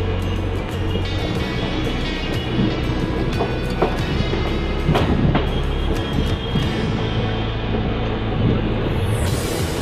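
A Vindhyachal Superfast passenger train rolls past close by, its steady loud rumble broken by rhythmic clattering of wheels over rail joints, with no voices.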